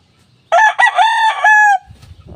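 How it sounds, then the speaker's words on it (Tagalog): A single loud, close crow from a seven-month-old rooster, a long cock-a-doodle-doo that rises and then holds before cutting off, followed by faint rustling. "Tumitilahok na rin siya."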